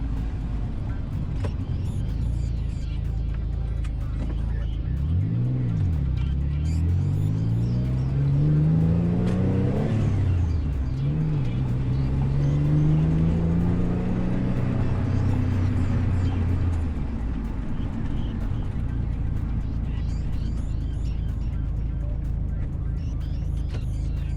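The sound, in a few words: Mitsubishi 3000GT driving with Clutch Masters twin disc clutch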